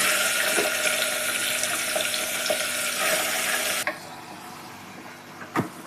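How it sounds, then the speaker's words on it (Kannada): Chicken dropped into hot oil in a pressure cooker, a loud, bright hissing sizzle that runs steadily, then abruptly drops to a softer crackle with a brief clatter near the end. "ನೋಡಿ ಎಣ್ಣೆ ಬಿಸಿಯಾಗಿದೆ ನಾನು ಚಿಕನ್ ಹಾಕಂತ ಇದ್ದೀನಿ"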